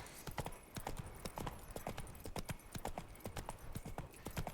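Hooves of Roach, a horse in The Witcher 3: Wild Hunt, trotting in a quick, even clip-clop rhythm, close and distinct, with sharp regular hoof strikes throughout.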